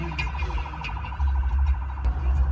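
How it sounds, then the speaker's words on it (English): Wailing sirens from a played music track, a rapid repeating whoop under a heavy low bass rumble, moderately loud and continuous. "Sirens in the background."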